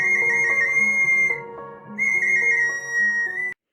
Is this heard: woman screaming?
no